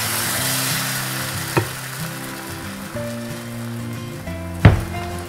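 Ghavane, a thin rice-flour crepe batter, frying in a pan with a continuous close sizzle and faint stirring or spatula scrapes, marked by two sharp clatters, one small and one louder, and no talking.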